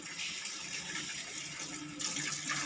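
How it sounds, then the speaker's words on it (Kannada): Water overflowing from a household water tank and spilling down, a continuous rushing flow heard at moderate distance, surging a little louder near the end, with no one talking. "ನೀರು ಚೆಲ್ತಾ ಇದೆ ನೋಡಿ."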